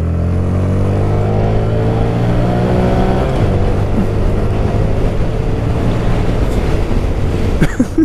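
A 2017 Honda Grom motorcycle engine on a top speed run, loud and close, its whine climbing steadily through the gears as it pulls hard, with wind roar building toward the end.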